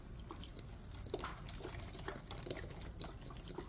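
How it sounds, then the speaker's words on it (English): Chicken broth is poured into a pot of collard greens cooking with coconut milk and pig tails, giving a faint, continuous liquid trickle with small splashes and no speech. "And then I'm gonna add some chicken broth."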